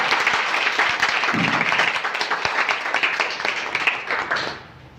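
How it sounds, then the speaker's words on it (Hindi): Sustained applause from an audience at a poetry competition, dense clapping that carries steadily for several seconds before tapering off at the end. "हमें तो बस आपकी तालियों का शोर अच्छा लगता है"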